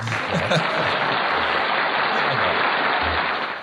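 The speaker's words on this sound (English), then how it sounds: "give me a clap for that" Studio audience applause, a dense burst of clapping that fills the space and holds steady before tapering off at the end, with a voice briefly heard over it.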